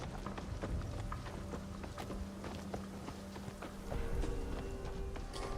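Horse hooves clatter steadily through Assassin's Creed Shadows, a continuous rhythmic clip-clop with scattered sharper hits, moderately loud against busy ambient game sound, with no voices.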